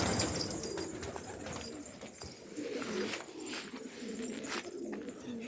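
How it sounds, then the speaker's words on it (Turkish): Low throaty cooing from a loft crowded with pigeons, including yellow Hungarian birds, repeated rolling calls from several birds close by with soft rustling and knocks between. "Bayağı bir kuş var ya."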